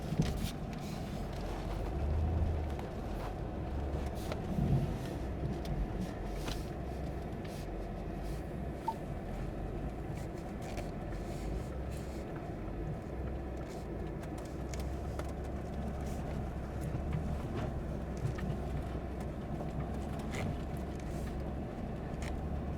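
A truck crawls off-road along the Mojave Road in four-wheel-drive low, a steady low engine rumble and drivetrain drone heard from inside the cab, with faint rattles and bumps over the rough ground.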